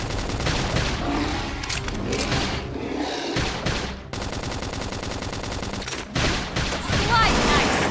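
Gunfire from mechs in Xenoblade Chronicles X, rapid machine-gun bursts and heavy booms pounding almost continuously over loud game noise, with brief drops between volleys.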